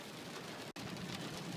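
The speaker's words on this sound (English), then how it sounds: "huge storm coming in, pouring rain." Huge storm with pouring rain seen while driving back from off-roading, a dense, steady, loud roar of heavy rain drumming without a break, apart from one very brief dropout midway.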